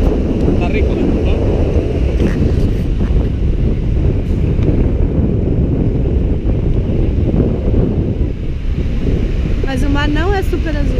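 Fresh wind blows hard across a beach in Punta del Este, a loud continuous rumbling gust buffeting close by with faint surf beneath, and people talking partway through.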